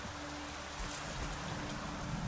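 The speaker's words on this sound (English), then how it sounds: "It's always raining down here." Steady rain falls in a video game setting, a dense, even hiss of drops with no breaks and no voices, moderately loud throughout.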